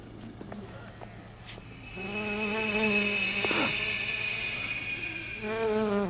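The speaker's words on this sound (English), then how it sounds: "Oh, right. This is where the bees are." Zombie bees in the video game Dead Rising give off a steady, droning insect buzz with a wavering tonal whine. It swells louder partway through and holds fairly close and continuous for several seconds, with no talking.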